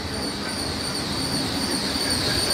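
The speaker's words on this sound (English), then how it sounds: "My current favourite train that exists in the UK" A GWR Class 800 passenger train running on rails between Oxford and London Paddington, a steady loud rolling roar with high squealing wheel tones throughout, no voices.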